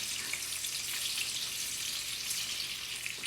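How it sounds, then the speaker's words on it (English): Fish sears in hot oil with a steady, close, hissing sizzle, even in level and uninterrupted throughout, with no talk. "the oil's warm, so we're gonna place the fish in the oil now."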